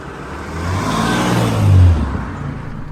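A Mercedes E-Class estate car pulls away, its engine rising in a steady rev that swells to a peak midway before easing back, close and fairly loud, with no talk.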